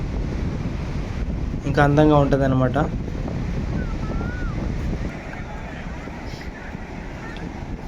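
Waves and wind at Juhu Beach in Mumbai in the evening, a steady rush of surf with microphone wind buffeting. Someone speaks briefly over it.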